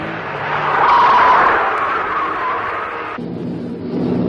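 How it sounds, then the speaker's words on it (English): Triumph 2000 race car braking hard at the 1965 Armstrong 500, a loud sustained tyre squeal over engine noise lasting a few seconds before the tone drops away. "Watch him bore it in and lose some rubber."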